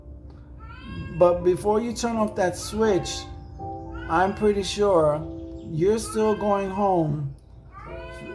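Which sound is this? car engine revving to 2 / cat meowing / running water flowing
cat meowing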